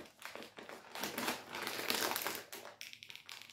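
Close, crackling crinkles of a plastic wrapper on a fluffy candy floss bar being pulled open by hand, in continuous bursts of crumpling with brief pauses.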